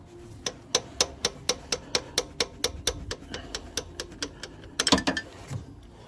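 A ratchet spanner clicks on a Porsche 997.1 water pump and drive belt, about twenty sharp, evenly spaced ratcheting ticks close by, then a brief cluster of louder clanks near the end.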